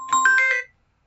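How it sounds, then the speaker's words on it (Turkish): A phone ringtone cuts into a coding tutorial as a short, bright electronic melody of a few quick tones, loud and close, and then stops into silence. "Telefon geldi."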